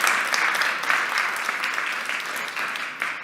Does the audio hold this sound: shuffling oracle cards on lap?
no